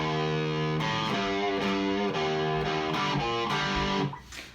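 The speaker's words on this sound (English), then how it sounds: "Alright, the variation riff, that is, basically every other measure, sounds like this." Distorted electric guitar plays a variation riff, a chugging run of loud, repeated power-chord stabs in a steady rhythm, ending abruptly as the last chord cuts off.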